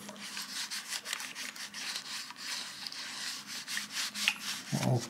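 Conditioner is rubbed by hand into an old leather jacket, producing a steady rhythmic close scrubbing and rubbing, with a brief low voice at the end.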